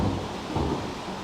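Low rolling thunder rumbles beneath steady rain, a short stretch of stormy weather with no voices.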